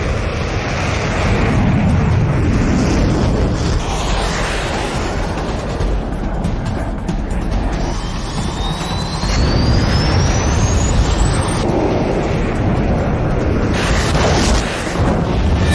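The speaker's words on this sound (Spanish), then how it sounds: "En ese momento escucho una explosión muy fuerte." Loud, continuous roar of jet aircraft in combat during the Falklands War, with a rumbling, blast-like wash of an explosion throughout and a rising whine midway; no speech.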